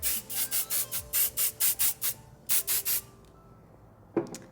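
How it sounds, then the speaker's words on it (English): Hairspray hisses onto freshly braided milkmaid hair in a series of about a dozen short, close, rhythmic bursts, followed by a pause and a faint rustle of handling. "I'm just gonna give this a little bit of a spray"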